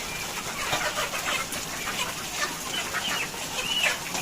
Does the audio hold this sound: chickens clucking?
yes